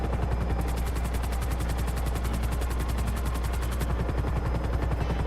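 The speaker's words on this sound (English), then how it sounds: "I'm in a helicopter" Helicopter flying in GTA 5 Online, a steady loud rotor thump with fast rhythmic chopping and engine drone throughout, close and continuous without voices.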